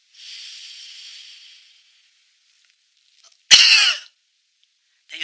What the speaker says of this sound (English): you're going to cough as hard as you can to expel your air